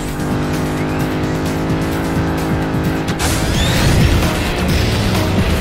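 Burnout 2: Point of Impact racing video game car doing a burnout, loud continuous engine roar with squealing tires and a skid swelling midway, under game sound.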